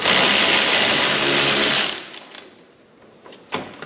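A ratchet with a 14mm socket spins off the strut mount nuts on a Dodge Ram truck, a loud continuous mechanical whirring for about two seconds, then a few sharp separate clicks and taps.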